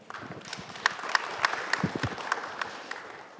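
Audience applause welcoming a professor to a policy debate forum, a fairly quiet spread of claps with a few sharper individual hits standing out over a soft crowd wash.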